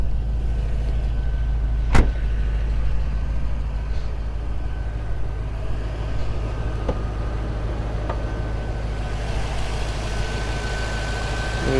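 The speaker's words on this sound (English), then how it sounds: "so it does have the 6-liter Chevy V8 engine" A stock 2006 Pontiac GTO with the 6-liter LS2 Chevy V8 and stock exhaust idles steadily with a low, even rumble. One sharp click stands out early on, and a couple of faint ticks follow.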